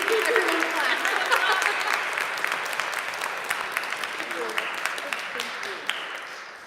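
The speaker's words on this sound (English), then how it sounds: "Everyone clap." An audience at an author book event claps, with scattered sharp hand claps inside a thick, sustained round of applause that slowly tapers. Some voices may be mixed in.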